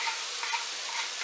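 Chopped onion sizzles in a hot frying pan while being sautéed for spaghetti carbonara, a steady bright crackling hiss with faint stirring ticks, close and alone.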